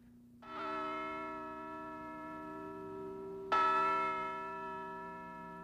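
Two bells from a collector's set strike in turn, the first ringing out and sustaining, the second louder and brighter a few seconds later, each leaving a long, shimmering decay in a quiet room.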